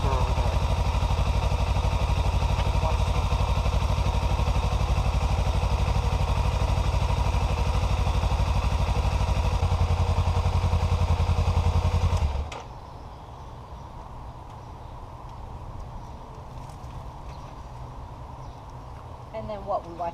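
A Kawasaki Ninja 300 motorcycle engine runs just after an oil change, idling loud and close with a steady buzzing drone for about twelve seconds before it cuts off, leaving quiet background with faint handling noises.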